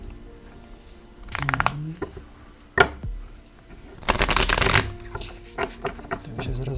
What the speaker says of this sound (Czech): Já si tady budu chvilinku míchat karty